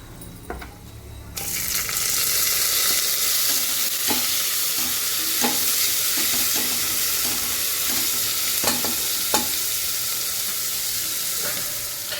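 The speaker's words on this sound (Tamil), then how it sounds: "நறுக்கின வெங்காயத்தை சேர்த்துக்கலாம்" Loud, continuous sizzling of chopped onions and cloves frying in hot oil, with occasional stirring scrapes and clinks throughout.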